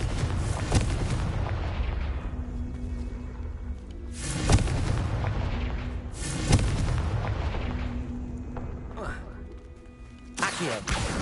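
In Hogwarts Legacy, Confringo blasting spells go off as three or four heavy booming explosions spaced a couple of seconds apart. Rumbling game sounds fill the gaps between them.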